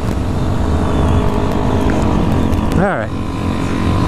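A Honda Grom motorcycle's engine drones steadily while riding, mixed with wind rush, and a rider speaks briefly over it.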